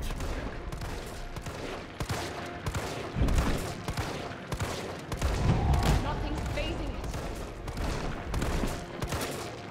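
Rapid gunfire bursts in the Resident Evil 3 video game, repeated sharp shots and fusillades running steadily throughout with heavier booming hits, under occasional talk.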